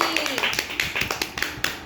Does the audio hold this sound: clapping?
yes